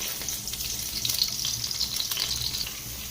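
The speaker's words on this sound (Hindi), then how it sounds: "इसमें ना हम चॉप्ड लहसुन डालेंगे और इसे हल्का सा फ्राई करेंगे।" Chopped garlic frying lightly in a small amount of oil in a wok for red sauce pasta, a soft steady sizzle and crackle running throughout with slight swells, close up and with no voices.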